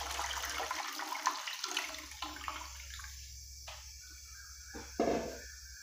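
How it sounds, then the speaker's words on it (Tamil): Tomato rasam water is poured into a pan of hot oil, giving a sputtering, hissing splash that spreads into rushing, bubbling sizzle, then quieter crackles with a brief louder burst near the end, fairly faint and without speech. "அதுக்குள்ளேயே வந்து நம்ம ரசத்தண்ணியை ஊற்றிடலாம்"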